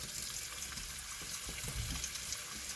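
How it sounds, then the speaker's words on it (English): An American Standard Cadet series kitchen faucet runs water in a steady, even hiss with no pauses, faint and close with no one talking. "I'll have to turn the water on to show you."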